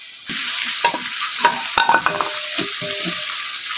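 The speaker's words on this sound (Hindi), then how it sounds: "यहाँ पर मैं अभी ऐड कर रहा हूँ अदरक लहसुन का पेस्ट" Ginger-garlic paste frying in oil in a karahi for a large pot of chicken biryani gives a steady, close sizzle, with spoon scrapes and stirring clatters cutting through it again and again.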